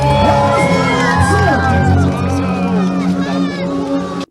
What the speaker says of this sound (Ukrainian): Все таки потрібні оплески, друзі!